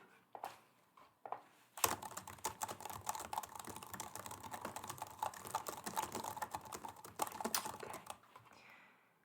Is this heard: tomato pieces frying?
no